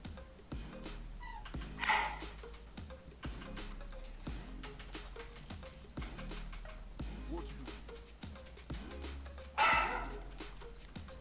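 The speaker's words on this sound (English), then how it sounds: "Someone's dog is not a happy camper." A dog barks in two short bursts, a few seconds apart, against steady game music, fairly distant and mixed low.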